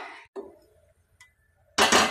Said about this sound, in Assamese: এতিয়া মই কেৰাহীটো পাতি দিলোঁ।